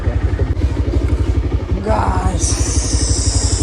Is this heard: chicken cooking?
no